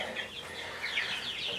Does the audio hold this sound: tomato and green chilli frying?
no